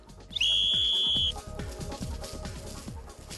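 Emergency whistle blown to signal rescuers, one loud, sustained shrill blast of about a second, then stopping abruptly over a faint rhythmic background.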